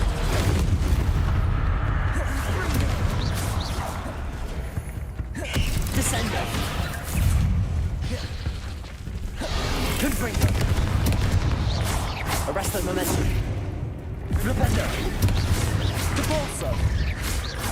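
Spell blasts and booming impacts from Hogwarts Legacy gameplay, a dense run of crashes, creaks and mechanical clatter rolling continuously over a steady game soundscape, with a voice casting spells throughout.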